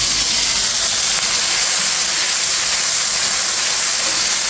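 Black cumin seeds are tempering in hot oil, a steady, loud, bright hiss of sizzling that runs unbroken throughout, with no talking.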